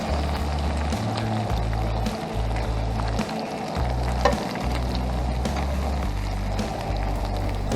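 Panko-coated lingcod fries in butter in a hot pan, giving a steady, close sizzle with crackling pops throughout and a low rumbling hum underneath.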